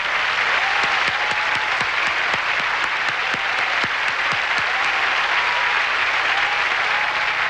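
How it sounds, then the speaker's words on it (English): A large Miss Universe 1989 pageant audience applauding the contestants continuously, a thick even wash of clapping with a few sharper claps standing out near the front. "please join me in applauding all the contestants for the title of Miss Universe 1989"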